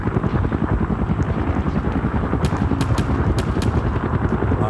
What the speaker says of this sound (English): Let's drive the helicopter over here.